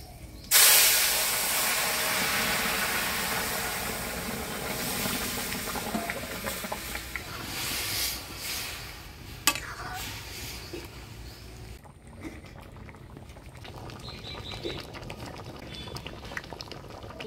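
Boiled masoor lentils with bottle gourd bubble in a pot with a dried chilli, bay leaf and panch phoron tempering. A sharp hiss bursts near the start, then a steady bubbling simmer continues with a few faint clinks.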